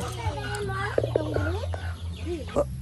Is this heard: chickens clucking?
yes